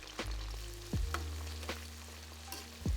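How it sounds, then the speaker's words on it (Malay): Steady sizzling of turmeric-marinated chicken deep frying in hot oil, with a few soft clicks and stirring knocks spaced through it. "korang masukkan ayam perlahan-lahan sambil leraikan masa jatuh dalam minyak tu"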